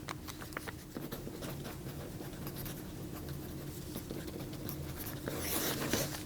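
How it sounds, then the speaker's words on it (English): Pencil sketching on the outside of a folded sheet of paper: a continuous light scratching with quick strokes and taps, close and fairly quiet throughout. "Sketch something on the outside of one, put them together so you can see how they nest"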